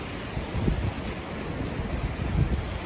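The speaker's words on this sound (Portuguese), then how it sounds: "aqui na praia de Hastings. Olha para aqueles lindos coqueiros, o mar" Sea surf and wind at Hastings beach in Barbados, a continuous broad wash of waves with gusty wind buffeting the microphone, steady and fairly loud.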